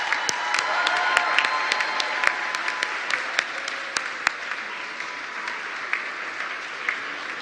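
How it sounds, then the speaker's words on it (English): A conference audience breaks into warm applause, dense clapping with a few sharper individual claps and faint cheering, strongest at the start and gradually thinning over several seconds. "may I have a warm applause for Miss Anita Erskine"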